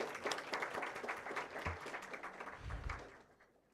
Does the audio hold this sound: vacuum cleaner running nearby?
no